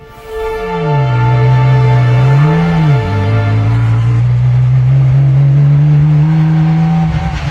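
Loud, steady engine drone from a homemade car built from scratch, with a strong low hum that dips and rises once early on, then holds a constant revving tone close by.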